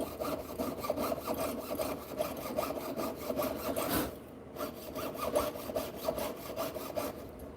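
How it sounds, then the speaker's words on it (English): Hand saw piercing a silver stamping: a steady run of quick, fine rasping strokes at an even rhythm, close and fairly quiet, with a brief pause midway before the sawing resumes, no speech. "I'm just sawing this out."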